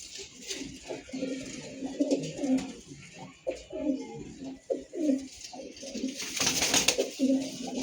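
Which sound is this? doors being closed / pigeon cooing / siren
pigeon cooing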